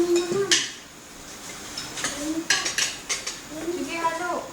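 Metal utensils stir food in a pot, with intermittent close clinks, scrapes and clanks against the pot and dishes, some louder knocks spaced irregularly.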